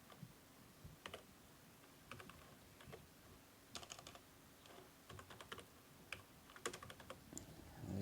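Faint, close typing on a computer keyboard, with irregular bursts of key clicks and short pauses over a quiet room tone.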